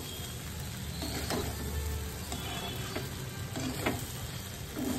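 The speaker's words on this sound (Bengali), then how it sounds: "দিয়ে দিলাম চিড়ে, ধুয়ে রাখা চিড়ে" Washed thick flattened rice (chire) for pulao sizzles steadily in a pan while being stirred, with intermittent scraping ticks over a close, even fry and no talk.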